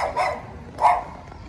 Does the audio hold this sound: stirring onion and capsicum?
no